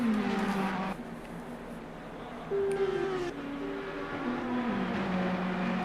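A sim racing car laps the Barcelona circuit in a video game, its engine droning steadily and shifting pitch through gear changes and corners. The sound is continuous and fairly loud, and faint commentary-like murmur may sit beneath it.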